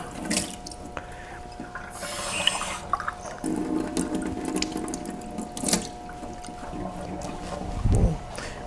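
Regular tap water runs from a faucet into a container, a steady splashing flow with brief bursts and a louder gush near the end, no speech.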